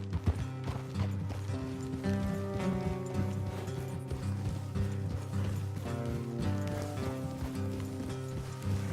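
Horses' hooves clopping on a trail in the Red Dead Redemption 2 video game, a steady quick rhythm running under a constant bed of game music, with no talk over it.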